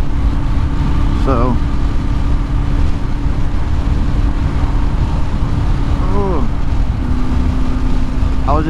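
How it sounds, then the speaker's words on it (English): A running engine has its throttle lightly blipped three times, each brief rev rising and falling over a steady idle drone with wind rumble on the microphone. "I was just slightly blipping the throttle, so it wasn't moving a whole lot."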